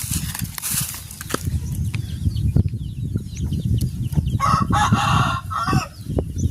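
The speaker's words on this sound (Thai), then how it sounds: "ไก่กับพ่อไก่" A hen and a rooster nearby; the rooster crows over ongoing clucking and scratching sounds, with a brief burst of outdoor noise near the end.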